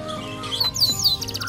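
A songbird chirps a few quick, high, sweeping notes over a soft background hum, brief and fairly quiet.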